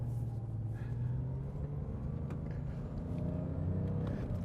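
A Porsche 992 Carrera S drives on a slippery road, its engine a steady low droning rumble with a faint rise in revs, heard from inside the cabin with no talking.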